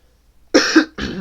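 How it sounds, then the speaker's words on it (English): Two loud, close coughs from a man in quick succession, the first harsher and longer, the second following after a brief pause. "sorry about the coughing"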